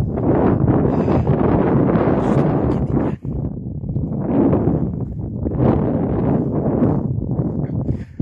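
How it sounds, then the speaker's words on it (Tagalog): Strong, steady wind on a mountain, Jabal al-Lawz, roars and buffets the microphone throughout, with gusts rising and falling and one brief dropout partway through. "napakalakas po ang hangin"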